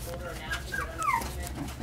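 Young puppies whimper and yip in short, thin, rising cries, several brief calls scattered through the moment while someone talks over them and a television murmurs in the background.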